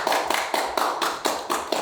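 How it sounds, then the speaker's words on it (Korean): A few people clap together at a forum opening, a sparse, regular run of roughly eight sharp claps in steady rhythm, fairly close and with no talk over them. "우리 서로에게 환영의 박수를 보내드리면서"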